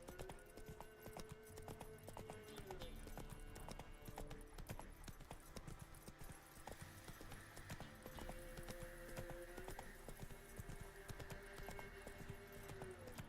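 In a video game, the horse Roach trots along a swamp road, rhythmic hoofbeats clopping steadily under a low, tonal game music bed, with occasional jingling tack and a faint whinny-like sound.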